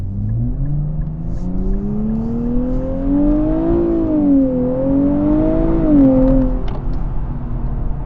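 A 2023 Nissan Z revs hard at full throttle, its engine note climbing steadily in pitch, briefly dipping at a shift, then rising again before easing off; loud and close throughout, with no talking.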